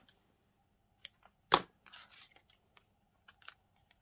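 Scissors snipping out a paper leaf decoration for an altered book page, a few sharp isolated cuts and a short rustle of paper, close but quiet in an otherwise silent room, no talking.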